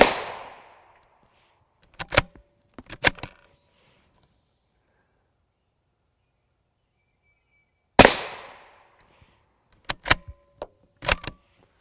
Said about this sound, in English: We're just going to pelt this plate with TC Compass 22-inch barrel, so maximum velocity here.